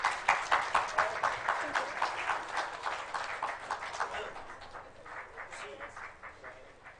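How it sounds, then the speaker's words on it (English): Audience applause at an A Levels speech competition welcoming a speaker, a steady patter of claps that starts moderately loud and gradually thins and fades over several seconds. "Let's welcome her with a round of applause."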